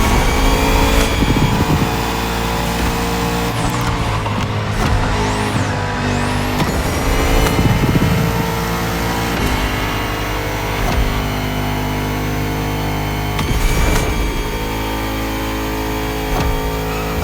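Bugatti Vision GT in The Crew Motorfest, its engine loud and close with rising revs, steady high-pitched drone and sweeping pitch changes, brief tire squeal, no talking.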